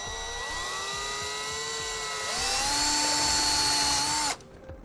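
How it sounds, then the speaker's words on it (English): A step drill bit whines steadily through a hole in the dashboard of a 2017 Chevrolet, its pitch shifting and rising partway through before the drill cuts off abruptly near the end. "now we'll use a step bit to enlarge our hole"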